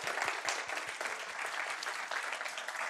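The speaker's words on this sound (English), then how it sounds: "give a big round of applause again to all the teams involved" A room full of people claps steadily and enthusiastically, dense applause holding at an even level throughout.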